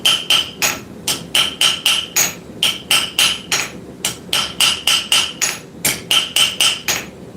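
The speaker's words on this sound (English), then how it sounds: "At this phase, we are just planishing." A hammer planishing hot metal during forging rings out in quick, sharp metallic strikes, loud and near, falling in steady bursts of three or four blows with brief pauses between, with no talk.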